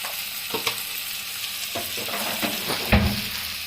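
Spices with turmeric and a little Kashmiri chilli powder fry in a pan for a Bengali fish stir-fry, a close sizzle broken by several spoon scrapes and a firmer knock near the end, without talk.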